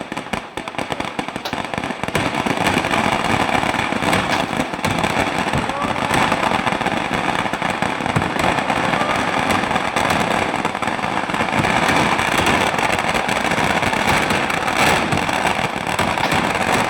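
Fireworks and firecrackers crackle and burst in a dense, continuous barrage at the Panchalingeshwara temple chariot festival (Vittla jathre), loud and unbroken for the whole stretch.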